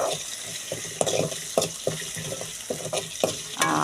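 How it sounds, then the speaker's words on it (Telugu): Octopus curry masala frying and being stirred in a pan, a steady sizzle broken by regular scraping strokes of the spoon, close and fairly loud with no talking. "మసాలా కూడా కొంచెం రెడ్ కలర్ వచ్చేంత వరకు వేయించుకోవాలి"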